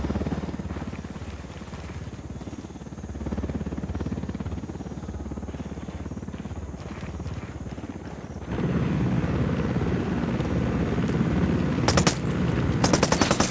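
A helicopter in the video game Ghost Recon, its rotor drone building steadily and growing louder partway through, joined near the end by bursts of rapid machine-gun fire.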